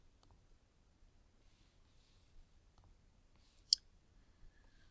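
A single sharp, faint mouse click stands out against near silence, with a few softer ticks scattered around it.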